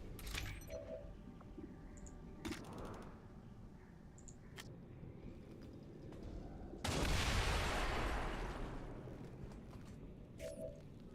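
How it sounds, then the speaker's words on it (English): An explosion in the video game XCOM 2 erupts as a sudden loud blast that fades into a rumbling decay, preceded by quieter clicks and game sounds. "Well, the explosion this time was accurate."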